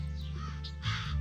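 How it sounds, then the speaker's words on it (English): Crows caw on a rooftop antenna in the Homescapes video game, a couple of harsh calls over a steady low game-music hum. "The crows took a liking to our antenna."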